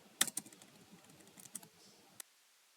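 Java code being typed on a computer keyboard: a quick, uneven run of crisp keystrokes with a few sharper taps, then a sudden stop into near silence.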